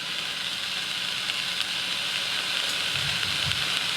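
Chicken taco filling seasoned with fresh squeezed lime sizzles steadily in a pan, a close, continuous frying hiss with no talk.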